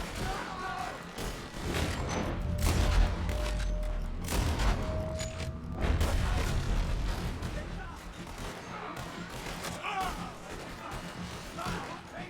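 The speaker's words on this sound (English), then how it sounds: "Where's that guy shooting from?" Scattered gunshots and booms echo through a Red Dead Redemption 2 firefight, crackling at middle distance under tense talking voices and a low rumble of battle.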